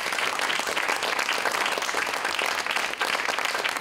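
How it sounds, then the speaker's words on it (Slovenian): Warm, sustained applause from an audience at a community hall performance for young musicians and dancers, dense steady clapping filling the room with no voices rising above it. "Še en aplavz za njih, res vsaka čas."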